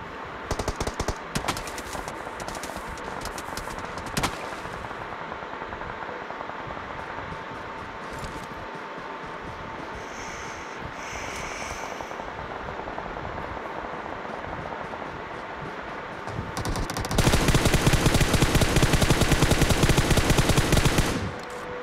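Automatic gunfire rattles in rapid bursts during a BGMI (PUBG Mobile) match, dense and continuous throughout, swelling louder and heavier near the end.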